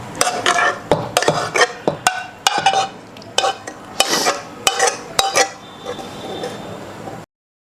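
A spoon clinks and scrapes against a metal pot while cauliflower pickle ingredients are stirred together, a quick irregular series of sharp taps and knocks close by, slowing toward the end, with no talking.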